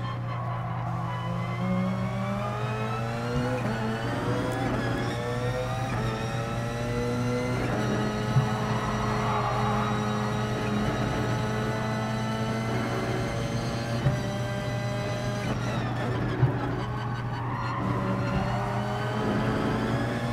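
Racing car engine in the video game GT Sport holds a steady loud drone, its pitch climbing and falling through gear changes and throttle lifts, with brief tire noise and no talk over it.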